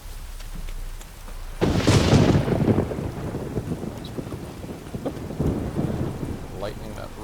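Loud thunder cracks and rolls in a storm in the video game Witcher 3, surging suddenly after a quiet start and then rumbling on under steady rain and wind.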